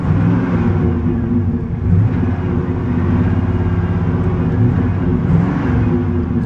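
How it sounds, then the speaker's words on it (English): A car engine with a misfire on cylinder 3 runs steadily and close by, its uneven, lumpy churn continuing without a break. "Basically, it says that there's a misfire on cylinder number 3"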